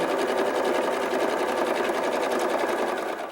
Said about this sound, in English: Now we're going to sew the bottom hem.